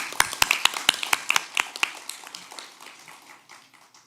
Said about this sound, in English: please join me in a round of applause for Rising Voices